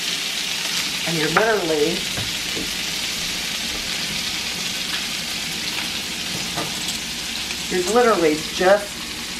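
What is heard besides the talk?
sautéing red pepper flakes in a pan with garlic butter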